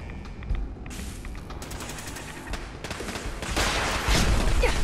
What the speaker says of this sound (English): someone's got like a missile launcher or something in there